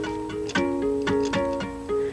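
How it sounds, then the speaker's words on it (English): A gourd struck against acoustic guitar strings produces sharp rattling percussive hits in a steady rhythm, each strike sounding a melodic pitched note at the same time, close and clear. "I came up with the idea of using a gourd, which I hit on the strings like this."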